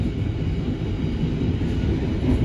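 Kutojaya Selatan passenger train running through Rancaekek station at reduced speed, a steady low rumble of wheels and carriage noise heard from on board, continuous and fairly loud with no talk.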